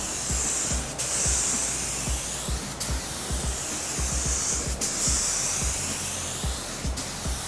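A spray gun lays a thick final coat of paint on a VW Beetle, producing a steady hiss broken into several long passes, each ending with a brief pause, close and fairly loud.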